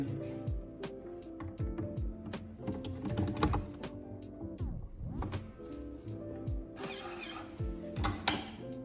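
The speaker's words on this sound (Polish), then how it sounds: "Odpakowujemy filtr i montujemy w ekspresie." A water filter is unpacked and fitted into a Jura WE8 coffee machine: a close, quiet run of plastic clicks, taps and crinkling handling noises, with a sharper rustle near the end.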